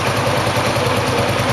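A motorcycle engine idles steadily up close, a low, even, rhythmic putter with no voices.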